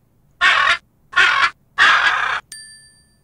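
A parrot gives three loud, harsh squawks in a steady rhythm, each lasting about a third of a second, followed by a bright bell-like chime.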